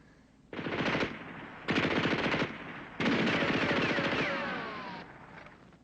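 Bursts of machine gun fire in a war TV series, three long rattling volleys of rapid shots, loud and close, separated by brief pauses.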